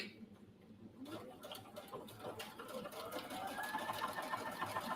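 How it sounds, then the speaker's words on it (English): Sewing machine running steadily as it top stitches around the edge of a fabric cross-body bag, a continuous close mechanical whir that builds slightly in speed and loudness. "we're going to top stitch around the edge of this bag"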